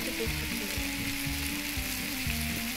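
Food sizzles and fries in a pan in the game Cooking Simulator, a steady hiss under a repeating mechanical ticking, moderately loud and continuous without speech.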